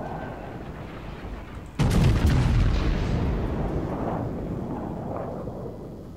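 Video game gunfire erupts as a sharp, heavy salvo of several cracks in quick succession, then a sustained booming rumble that slowly tails off over steady background noise.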